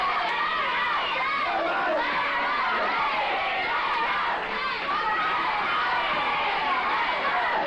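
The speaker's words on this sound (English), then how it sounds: "Very excited crowd, I might add, too, as you can hear them chanting now for DiBiase" A large, excited wrestling arena crowd chants and cheers steadily for a wrestler, a dense, continuous roar of many voices that holds level the whole time with no single speaker standing out.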